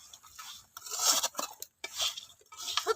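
Sugar-coated gaja sweets are stirred off the heat, giving intermittent dry scraping and rattling against the pan in uneven bursts, close and fairly quiet, with a brief pause midway.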